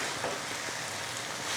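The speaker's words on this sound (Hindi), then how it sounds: "अच्छी तरह से 5 से 6 मिनट तक हमने कीमे को फ्राई किया है।" Minced chicken keema frying in a pan, a steady, even sizzle with fine crackle throughout, close and continuous with no talk.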